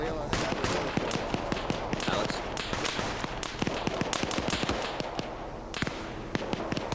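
Video game gunfire with dense bursts of sharp cracking shots, near and far, overlapping in a busy firefight while a voice speaks over it.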